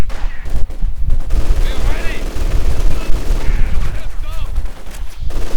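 Bursts of rapid gunfire and machine-gun fusillades in a World War II strategy video game match, loud and overlapping, with a voice heard briefly amid the shooting.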